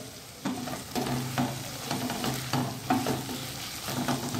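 Tomatoes cooking in a pan for a pea and potato dish, soft frying sizzle under rhythmic spoon scrapes and stirring knocks recurring about twice a second, fairly quiet and close, no voices.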